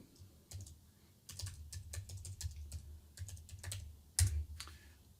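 Password being typed on a computer keyboard: scattered bursts of quick, close key clicks with short pauses, one sharper louder tap near the end, no voices.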